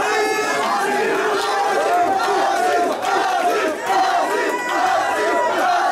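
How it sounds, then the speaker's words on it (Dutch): A crowd at a boxing event roars and cheers with scattered applause, a loud, continuous mass of voices and shouts holding steady throughout, with no single voice standing out. "Mag ik een applaus voor deze man?"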